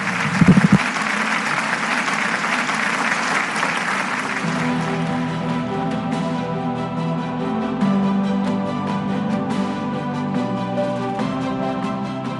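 An audience at a Universal Peace Federation rally applauds a welcome for Newt Gingrich, a full steady round of clapping that carries on for the whole stretch, with brief voices and a tonal hum in the middle.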